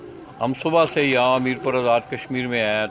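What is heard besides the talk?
pigeons cooing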